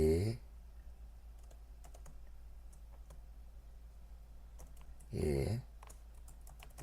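Keys clack on a computer keyboard while a formula is typed into a spreadsheet, scattered quiet taps and clicks near the microphone, with brief bursts of a voice talking at the start and near the end.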